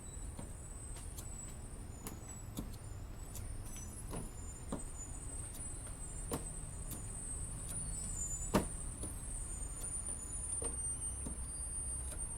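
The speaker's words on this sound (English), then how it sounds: "Can you hear the like big truck outside my driveway?" A big truck idling just outside a residential driveway gives a faint, steady low rumble beneath scattered clicks and small taps, with a brief louder knock partway through and no clear talking.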